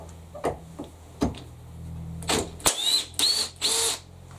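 A Makita hammer drill fires off a series of short bursts, each a sharp rattling whir, with brief knocks and pauses between them; the last few bursts are louder and longer, sounding close by.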